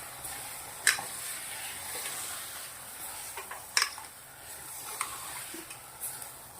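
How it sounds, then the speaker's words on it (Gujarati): Toor dal and rice stirred with vegetables in hot oil, a faint steady sizzle under occasional sharp clicks and scrapes of a spoon against the pot, close but quiet. "સરસ મિક્સ કરી દેશું."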